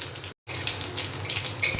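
Whole cumin seeds fry in hot mustard oil in a kadai, giving a close, steady crackling sizzle with one brief cutout and a small clink near the end.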